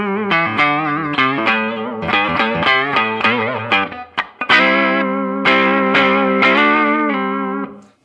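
Clean tone from the bridge P90 pickup of a 1957 Gibson Les Paul Special electric guitar, with picked single notes and chord stabs ringing out clearly, a brief pause midway, then sustained chords fading at the end.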